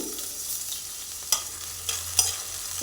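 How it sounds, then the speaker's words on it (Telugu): Tomato pieces frying in ghee in a kadai give a steady, moderate sizzle with a few brief clinks and scrapes from stirring, and no voices. "మరోవైపు నేను కడాయి పెట్టుకొని ఇందులో కొద్దిగా నెయ్యి వేసానండి ఇందులో మనం నేను టమాటా వేస్తున్నాను"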